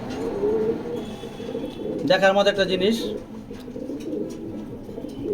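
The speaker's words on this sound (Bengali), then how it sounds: "রানিং কবুতর" Racing pigeons coo in a short burst of soft, rolling calls close by, over a low hum of other birds while someone talks before and after.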